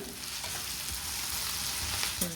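Onion sautéing in a pan, an even close frying hiss with soft stirring scrapes and a faint knock near the end, no speech.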